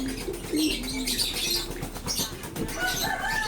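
A large, restless racing pigeon flaps its wings in short, rustling bursts at close range, with faint cooing and other bird sounds around it.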